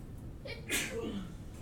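A single short sneeze, close and sudden, amid faint room noise.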